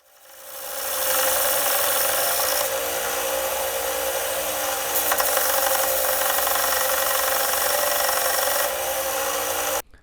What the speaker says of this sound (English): After tearing off the prongs, I decided I had to grind them down to the right height. I just did this with a belt grinder.